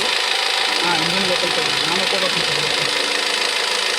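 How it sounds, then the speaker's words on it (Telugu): Close, continuous engine noise from an idling Mahindra Marazzo with rough running and knocking, a steady loud rumble with uneven pulsing throughout and no other sounds over it. "ఇప్పుడు ఎట్లుంది బీటింగ్? హార్డ్ బీటింగ్ ఉంది, రఫ్నెస్ ఉంది."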